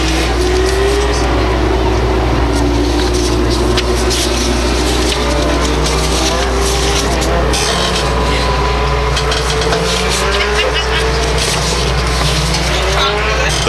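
Legend race cars roar past in a heat race at Beech Ridge Motor Speedway, a loud, continuous engine drone with pitch sweeps as cars pass and rumbling low end, crowd and track noise underneath.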